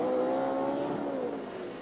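An ARCA Re/Max Series race car stuck in the mud, its engine held at a steady high rev that slowly sags and wavers near the end, loud and alone.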